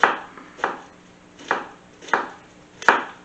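A knife chops food on a cutting board for coleslaw, five sharp, separate knocks spaced about half a second apart, close and fairly quiet with no talking.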